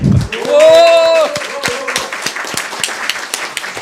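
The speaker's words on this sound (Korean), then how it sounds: "박수 한번 부탁드리겠습니다" Audience applause at a Korean youth committee appointment ceremony, brief scattered clapping that starts with a loud sustained tone and a voice over it, then thins into lighter claps for a few seconds.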